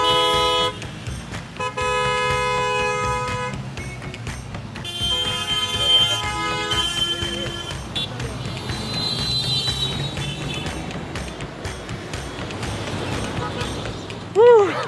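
Busy Mumbai street traffic at a crosswalk, with repeated car horn toots and honks over a constant engine rumble, loud and close, and people talking in places.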